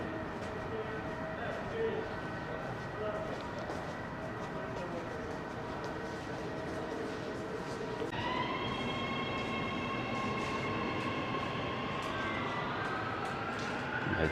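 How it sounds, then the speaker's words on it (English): A metro train runs at National Museum station, a steady loud rumble of wheels and motors with a sustained hum; partway through a sharper tonal whine rises as the train brakes or draws in. "My train is just coming in a few minutes."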